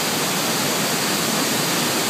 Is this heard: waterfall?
yes